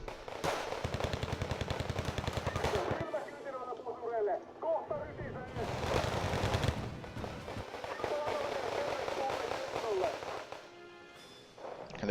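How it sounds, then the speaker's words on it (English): Bombing runs in the real-time strategy game Wargame: Red Dragon, striking clumps of infantry. Dense, continuous bursts of rapid gunfire and explosions roll on throughout, loud and close, with a few short lulls between the barrages. "I'm just going to start bombing him."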